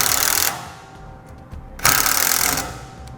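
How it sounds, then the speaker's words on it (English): Self-tapping screws for a Roadmaster towed-vehicle base plate being run in with a power driver and 8mm socket: two loud, close whirring bursts, each under a second, separated by a brief quieter pause. "We're going to use an 8mm socket to run it in"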